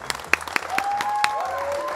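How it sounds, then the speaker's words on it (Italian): Studio audience applause on an Italian daytime TV show, a steady dense clatter of clapping lasting about two seconds, with scattered sharper claps and a faint tonal sound running underneath. "questo applauso di incoraggiamento e di orgoglio da parte nostra va a te"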